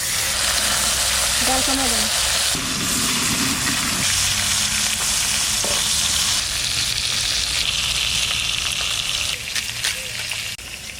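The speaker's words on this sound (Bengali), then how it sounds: "কড়াই গরম হয়ে গেছে তেল দিয়ে দেবো" Hot oil sizzles loudly and steadily in a heated kadai during village-style cooking of elephant foot yam with prawns, a dense crackling hiss that continues alone throughout.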